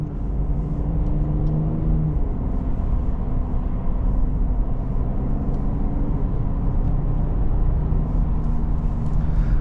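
A 2017 Cadillac CTS with the 3.6 engine and 83,000 miles on it cruises along, a steady close engine rumble and road drone that holds without a break and rises slightly under throttle.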